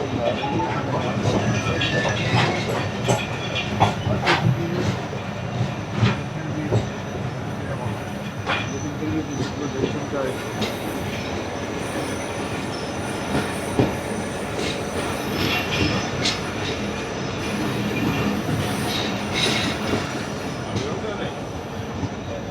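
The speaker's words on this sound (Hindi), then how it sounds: "ट्रेन हमारी खानपुर रेलवे स्टेशन पर अप्रोच बनाते हुए" A train rumbles and clatters on its approach into Khanpur railway station, with steady rolling noise, wheel squeal and clicking over rail joints, loud and continuous throughout.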